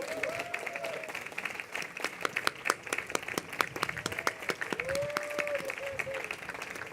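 Applause from an audience at an award ceremony as a youth agency project is called out, a scattering of sharp claps over crowd murmur, with a voice briefly heard amid the clapping.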